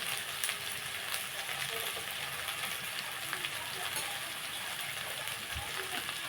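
Spices for a tempering sizzle in hot oil in a home kitchen, a steady hissing crackle that holds at an even level throughout with occasional small pops.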